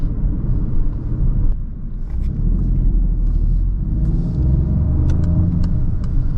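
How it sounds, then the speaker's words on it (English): Peugeot 2008 with a 1.2 engine accelerating from inside the cabin, a steady loud low rumble that briefly dips then swells again for about six seconds, with no talking. "Listen to that engine, guys."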